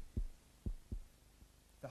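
A raptor's heart beats in slow, low thumps, four soft pulses spaced unevenly and faint overall, heard alone with no talk.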